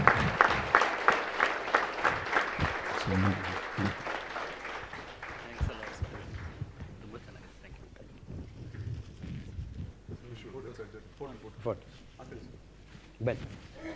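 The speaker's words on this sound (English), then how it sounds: "Big round of applause, gentlemen." Audience applause at a health talk on millets, a dense burst of clapping in the opening seconds that thins out and fades, followed by scattered claps and voices.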